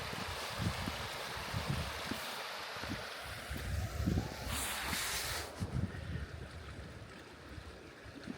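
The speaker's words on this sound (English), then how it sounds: "Trickling water, I love that sound." Water trickles faintly along a quiet coastal path toward Craster, largely buried under gusty wind buffeting the microphone.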